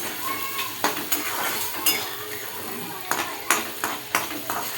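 Onion fries in a hot pan until browned, with a steady bright sizzle and repeated scraping and clinking as a spoon stirs it.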